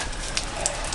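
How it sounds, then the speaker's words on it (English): Light rain falls steadily outdoors, a continuous soft hiss of drops with a few brighter patters, with no voices. "every once in a while you get one of those days where it just rains and rains and rains"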